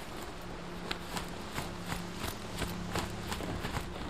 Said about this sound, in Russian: Лошадь, она проблема в ней, как бы, заключается в том, что она слишком громкая.